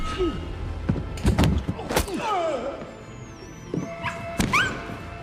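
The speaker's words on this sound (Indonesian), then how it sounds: "Bahkan mereka membunuh Daisy yang terus menggonggong karena John terluka." A dog barks in an action film scene, several sharp barks mixed with thuds, knocks and other scene noises, close and uneven in rhythm.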